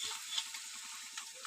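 Chopped potato in hot oil in a wok gives a faint, steady sizzle broken by a few light clinks, with no voices.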